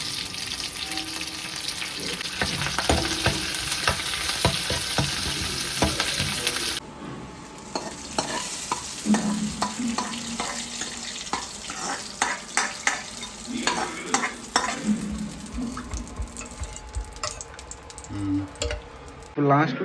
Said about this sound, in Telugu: జీరా వేయి, శనగపప్పు, ఆవాలు, దీన్ని ఇలా కలుపుదాం.